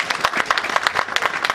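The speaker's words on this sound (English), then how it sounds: "You can clap for them, they did amazing." An audience claps for the presenters, a loud close patter of individual hand claps at an uneven rhythm, with no voices on top.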